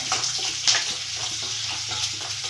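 Onions and lentils fry in a couple of spoons of oil in a pan, a steady close sizzle with faint bubbling and occasional stirring.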